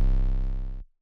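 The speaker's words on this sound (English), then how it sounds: "I like the sound a lot, but I wanted the 808 to be more short" A shortened 808 bass sample plays as a single deep, round bass hit that lasts under a second and then stops quickly. It is heard alone, with no talk.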